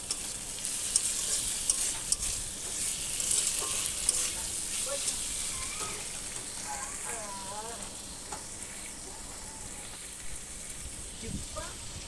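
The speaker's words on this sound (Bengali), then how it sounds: "টমেটোগুলো ভাজা ভাজা হয়ে আসলে ওতে নুন, লঙ্কা গুঁড়ো, হলুদ গুঁড়ো সব একসাথে দিয়ে কষিয়ে নেব।" Tomatoes fry with salt, chili powder and turmeric in a pan, giving a steady sizzle with occasional stirring scrapes throughout, while a voice speaks faintly in the background.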